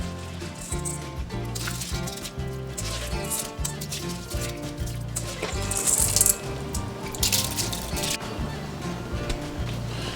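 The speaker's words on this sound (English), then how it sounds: "Now I'm going to mix in the rice to get the rice down into the pot so the peas mix right in there" Rice is stirred into a pot with peas for Jamaican rice and peas, busy scraping, rattling and wet shuffling continuing throughout over a steady hum.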